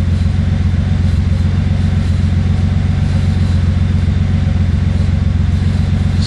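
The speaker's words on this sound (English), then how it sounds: "you can see the motor slowly warming up" A car engine idles steadily during a Megasquirt-managed cold start, a constant low rumbling drone with an even pulse, close and unchanging throughout with no talking.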